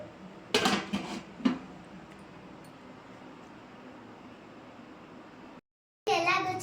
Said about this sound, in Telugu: వేసేసి మూత పెట్టేద్దాం. మూత పెట్టేద్దాం ఫ్రెండ్స్.